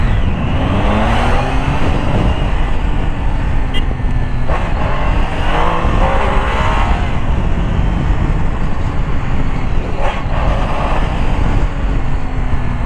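Motorcycle with traction control and ABS on, engine roaring steadily as the throttle is twisted, loud and close with constant wind and road noise, no talking.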